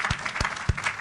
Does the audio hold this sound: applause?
yes